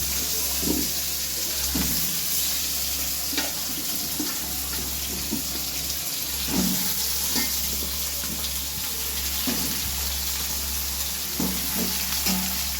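Chopped onions and potatoes fry together in oil in a pan, a steady sizzle with occasional stirring scrapes and clatters, close and continuous with no talking.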